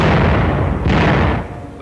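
German tanks and gunfire during the 1944 street fighting in Paris, a dense, continuous roar of heavy firing and blasts that holds loud for over a second before easing slightly.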